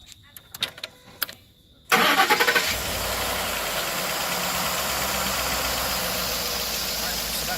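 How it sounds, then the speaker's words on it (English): A 2011 Ford F150 truck engine cranks and catches after a few clicks, then settles into a steady, loud idle that continues to the end. "I'm going to fire the truck back up now"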